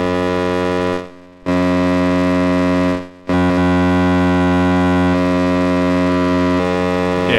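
An Elmyra 2 drone synth runs through a bit mangler effect, producing a loud, sustained buzzing drone rich in stacked harmonics, briefly dropping out twice before resuming steadily.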